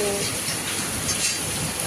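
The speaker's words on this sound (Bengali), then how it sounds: "খেতে খেতে দেখি যেন কী বৃষ্টি হচ্ছে" Rain falls steadily in a village setting, a dense even patter and hiss that fills the short stretch without pause.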